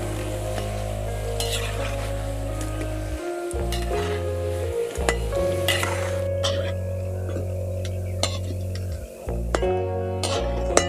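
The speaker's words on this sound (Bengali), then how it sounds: "এগুলোকে নাড়াচাড়া করে একটু মুচমুচে করে ভেজে নিয়েছি" Potato peels crackle and sizzle in hot oil while being stirred and turned to crisp them, a steady loud fry with a low hum underneath and occasional metallic clinks and scrapes of the utensil against the pan.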